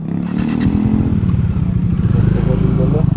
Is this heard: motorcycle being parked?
yes